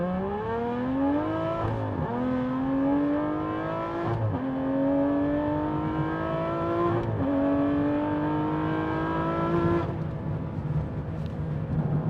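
An Aston Martin V12 Vantage engine revs hard through several gears, pitch climbing then dropping at each shift, loud and continuous as the car accelerates to 60 mph.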